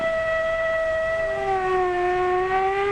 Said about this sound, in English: What does the siren on the fire truck say?